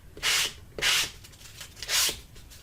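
Coarse sandpaper rubs across a journal cover in three distinct, close scratchy strokes, each about half a second long, separated by brief quiet gaps. No one speaks.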